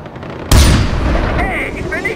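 Gunfire in the Far Cry 4 video game erupts suddenly as a loud burst of shots, then continues as a dense, rumbling barrage of battle noise that holds steady to the end, with a voice talking underneath.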